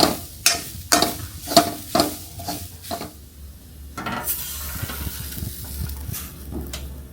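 Grated coconut, already browned, being stirred and scraped in a pan, with a run of sharp spatula strokes against the metal early on, then a softer steady sizzle and a few lighter scrapes.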